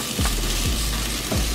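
Onions fry and brown in a pan for a seafood boil, giving a loud, dense, continuous sizzle heard close up, with a few low thumps from the pan and no voices over it.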